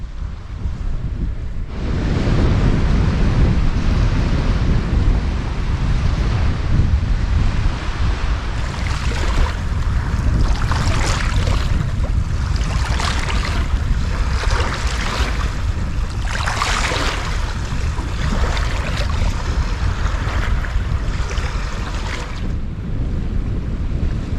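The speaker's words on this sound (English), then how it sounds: "We got quite a strong easterly wind, as you can probably tell." Strong easterly wind on a sea coast roars steadily over the microphone, with heavy, continuous buffeting and gusts that surge in waves, likely with surf mixed in beneath.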